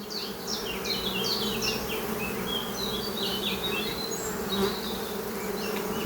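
A very strong honey bee colony hums with a dense, continuous buzz during a spring honey harvest, individual bees whining past close by over the steady drone, with no talking.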